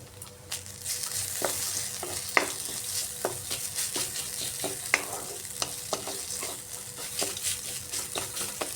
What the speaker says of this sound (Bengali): ভেজে রাখা কিসমিস দিয়ে দিচ্ছি আর দিচ্ছি সামান্য আদা কুচি